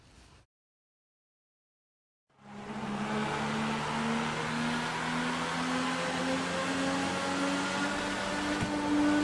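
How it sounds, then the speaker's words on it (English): A 640 horsepower naturally aspirated V12 supercar in GTA 5, the Progen racer at Le Mans. A short blip is followed by silence, then a loud, steady engine drone with a tone that climbs slowly and holds for several seconds. "It's a 640 horsepower, naturally aspirated V12 powered supercar"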